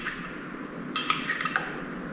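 A bar spoon stirs an oak-smoked honey old fashioned with cherry juice and simple syrup in a mixing glass, producing a quick run of light, bright clinks and tinkles over a faint background hiss.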